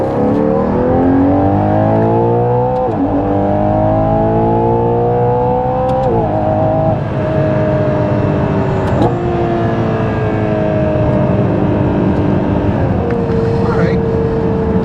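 Ferrari Purosangue, 715 hp, on a test drive, an engine heard from inside revving up through several gear changes with a rising, stepping pitch, loud and close, with voices talking over it.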